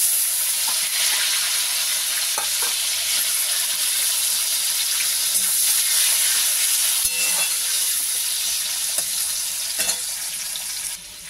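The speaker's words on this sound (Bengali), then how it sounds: "এইবারে ভিজিয়ে রাখা কাজু কিশমিশগুলো আছে, এইগুলোকে একটুখানি ভেজে নেব" Soaked cashews and raisins fry in hot oil in a pan, giving a loud, constant bright sizzle with scattered small pops and crackles over about eleven seconds, with no talking.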